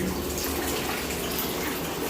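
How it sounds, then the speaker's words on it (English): Warm water runs steadily into a bathtub after a leaking diverter valve repair, a loud, even rushing and splashing close by while the tub drains, with no talking. "And the tub is draining."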